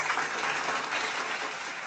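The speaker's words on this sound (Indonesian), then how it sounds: "Tepuk tangannya mana?" Applause from a small live audience during a school podcast session at SMK BPPI Baleendah, a steady dense patter of clapping held at an even, moderate level for about two seconds with no talk over it.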